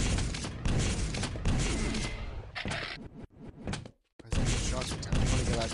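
A grenade bursts during a Quake match at an ESL IEM 5 World Finals semi-final, giving a loud, dense blast among other rapid game noises, with a brief near-silent gap before the action resumes.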